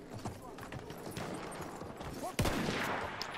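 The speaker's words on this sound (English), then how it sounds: "Am I shooting my sniper?" A single loud, sharp sniper rifle shot from Battlefield 1 cracks out near the middle, over a busy game soundscape of horse hooves and distant gunfire, with a voice talking in the background.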